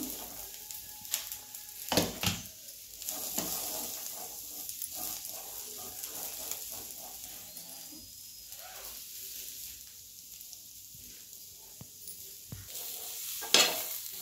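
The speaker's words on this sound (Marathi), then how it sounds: "तर बघा मका आता चांगली भाजून घेऊया डाग पडेपर्यंत" Tender sweet corn cobs roast dry on a hot griddle over a gas flame, giving a faint, steady crackle and sizzle with occasional scrapes and turning knocks, close by and without talk.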